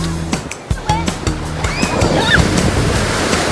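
Sea waves washing onto a beach, a breezy rush of surf swelling in the second half, with a person's voice and other brief sounds over the first part.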